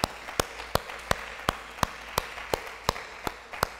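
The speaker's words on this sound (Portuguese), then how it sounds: "Dá um aplauso ao Senhor aí." A church congregation giving applause to the Lord during a Portuguese-language service, heard as a steady rhythm of single sharp claps about three per second, close and distinct.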